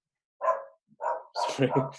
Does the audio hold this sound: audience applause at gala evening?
no